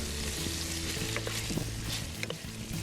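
Grated tomato cooks with chorizo in a pan for lentejas a la riojana from La Rioja, Spain, giving a steady soft sizzle and bubbling with faint stirring scrapes and no talking.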